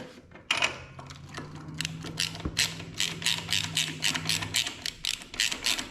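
Ratchet wrench clicking in quick bursts while loosening the spark plugs on a Husqvarna 2348 riding mower during a tune-up, close and fairly loud, with a steady low hum running beneath the first part.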